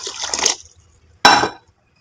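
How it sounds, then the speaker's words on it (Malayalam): Water is poured into a cooker holding rice for biryani, two separate splashing pours with a quiet gap between them. "ഇതിലേക്ക് വെള്ളം പാർന്ന് വെക്കുക."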